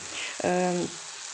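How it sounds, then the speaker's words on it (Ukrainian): Onion sizzling in hot vegetable oil in a pan, a steady soft frying hiss with a brief clatter of stirring or a tone in the middle, no speech. "У мене нема зараз вершкового масла, тому я смажила на олії."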